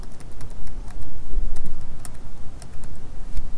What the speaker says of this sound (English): we're going to retype our IP address in here.